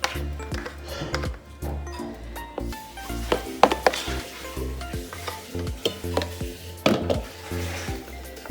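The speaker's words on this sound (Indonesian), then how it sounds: "Kita aduk pelan-pelan sampai merata" Whipped egg whites are folded slowly into egg yolk batter for a fluffy cheddar cheesecake, with soft, irregular scraping and squelching strokes of a spatula against the bowl and faint tones behind them.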